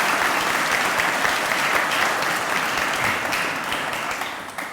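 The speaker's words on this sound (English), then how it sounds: "Let's give him a round of applause and show appreciation." Audience clapping at a governor's announcement of a new Arkansas Game and Fish commissioner: dense, steady applause from a crowd for nearly five seconds, tapering slightly at the end.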